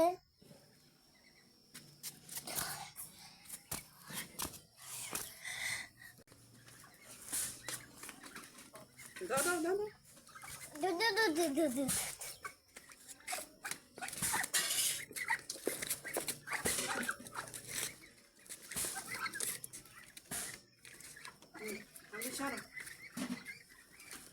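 Chickens on top of a coop at dusk, clucking and squawking in uneven bursts, with other birds and a dog faintly mixed in, and people talking nearby.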